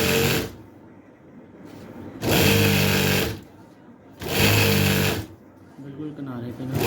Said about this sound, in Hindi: इसका भी हमने ऐसे ही सिलाइयाँ लगा लेनी है।